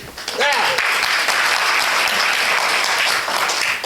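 Lions members at a district conference break into loud, full applause, with a brief rising whistle or whoop near the start, then sustained dense clapping close by for the rest of the few seconds.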